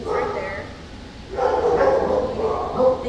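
Dogs in animal shelter kennels bark and yelp in a loud, echoing chorus. Fairly close, busy bursts come and go over a few seconds.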